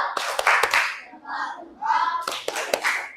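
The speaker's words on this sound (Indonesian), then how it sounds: "Kita beri tepuk hebat buat Arel dan Bagus" Children clapping for two classmates, Arel and Bagus, in a school classroom: two bursts of group handclaps around a chant-like pause, close and lively, with young voices briefly in between.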